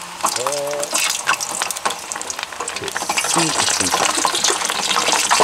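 Hot oil sizzles and crackles steadily as mantises and grasshoppers are deep-fried, with brief bursts of voices and laughter over the bubbling.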